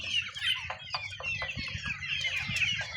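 Month-old chicks and young poultry offered for sale cluck and cheep continuously in a flock, with many overlapping high calls close by and soft low clucks underneath, no talking.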